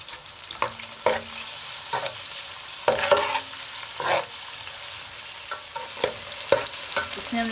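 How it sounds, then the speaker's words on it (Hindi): Chopped garlic and ginger, with onion, fry softly in cooking oil while a utensil stirs, making irregular scraping clinks over a low sizzle with no voices. "इसमें हमने प्याज, अदरक और लहसुन भी डाला है। इसको ऑयल में थोड़ा सा पकाएंगे"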